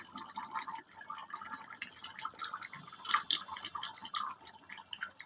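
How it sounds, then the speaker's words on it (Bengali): Egg chicken curry simmers gently in a covered pot over low heat, giving faint, irregular bubbling and soft dripping pops, quiet and close with no talking. "সিম আঁচে করলাম, আস্তে আস্তে ফুটুক।"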